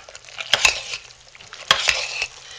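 Homemade hot process soap with essential oils is stirred in a pot, giving two bursts of wet, squelching scrapes against a quiet background, close and fairly loud, with no talking.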